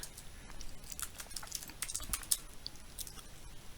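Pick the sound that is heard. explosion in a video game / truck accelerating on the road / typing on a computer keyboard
typing on a computer keyboard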